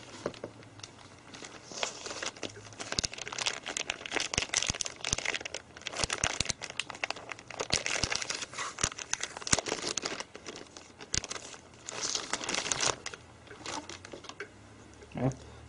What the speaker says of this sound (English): We can unwrap our new LCD.